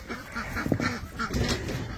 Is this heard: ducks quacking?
yes